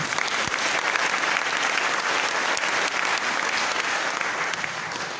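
A church congregation applauds in a steady, full-room wash of clapping that lasts throughout without a break.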